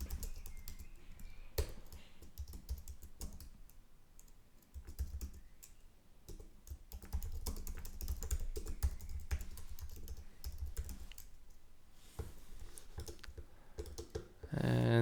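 Steady, rapid keystrokes on a computer keyboard while entering text in a design app, close and continuous with small pauses, no talking.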